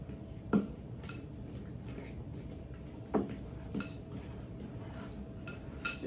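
A fork scrapes and clinks against a bowl while mashing softened butter and margarine together, with a few sharp taps spaced through a quiet kitchen background.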